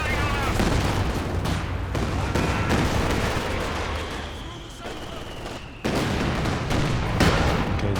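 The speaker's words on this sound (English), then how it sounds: "Good long-range shot from the Jagdtiger." A Jagdtiger tank gun fires in Company of Heroes 2 amid a busy battlefield, loud booms and crackling gunfire layered throughout, with a sharp renewed blast near the end.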